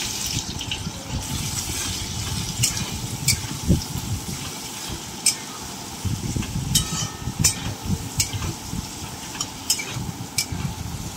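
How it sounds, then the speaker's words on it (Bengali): Two large chopped onions sizzle in ghee in a pot, a continuous bright frying hiss broken by repeated scraping and stirring strokes, close and fairly loud with no talk. "পেঁয়াজটা দিয়ে ভালো করে ভাজা ভাজা মতো একটু করে নেবো।"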